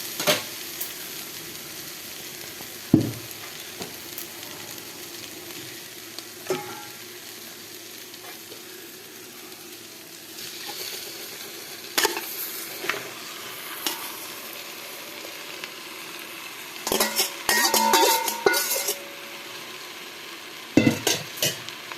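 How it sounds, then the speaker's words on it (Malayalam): Chicken pieces going into a hot pan for a home-style chicken roast, frying with a constant soft sizzle while a utensil stirs and scrapes, with sharp metallic clinks against the pan now and then. "ഇനി അതിലേക്ക് നമുക്ക് ചിക്കൻ ആഡ് ചെയ്യാം."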